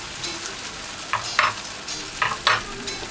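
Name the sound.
stir-frying green peas and corn in a pan for fried rice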